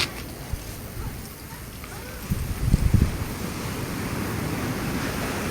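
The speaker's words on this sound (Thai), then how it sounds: "มาดูคลื่นทะเลนะคะ อ่ะ คลื่นลมแรงมากเลยนะคะ" Strong sea waves crash and churn at Ban Tai public beach on Koh Samui under heavy, steady wind, with a louder surge of surf midway and constant wind buffeting the microphone.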